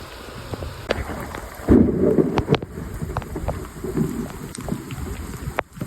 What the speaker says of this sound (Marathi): एकदमच विजेचा आवाज आला बघा.